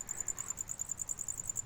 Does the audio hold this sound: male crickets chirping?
yes